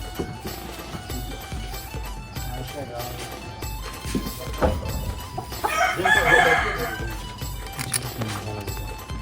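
A country rooster clucks and gives a loud crow partway through, close by, with people talking over it and some background clatter.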